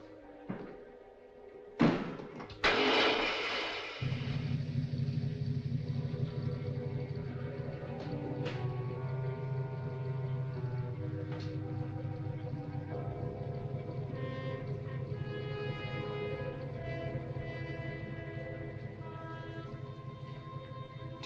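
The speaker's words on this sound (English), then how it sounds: "Start the motor." A motor vehicle engine is started with a thud and a brief whirring crank, then settles into a steady low idle that keeps running at moderate volume to the end.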